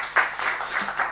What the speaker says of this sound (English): Let's give Paul another round of applause.